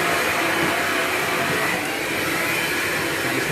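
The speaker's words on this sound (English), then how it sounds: "You just need the vacuum here" A Hoover LiNX cordless vacuum cleaner runs with a steady, loud motor whine and airflow hiss, close and continuous, with no talking.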